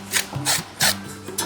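A knife scrapes the scales off a fish being prepared for frying, giving three or four close, loud rasping strokes in a rough, uneven rhythm.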